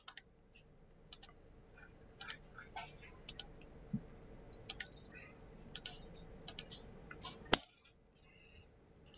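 Sharp computer mouse clicks come one at a time at an irregular pace, close and crisp over a faint steady hum, during drafting work on dimensions and 2D drawing.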